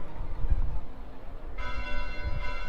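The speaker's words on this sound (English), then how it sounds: "Bells? This late at night?" Church bells ring out at night in Fire Emblem: Three Houses, a bright sustained ringing that enters partway through over a low rumbling background.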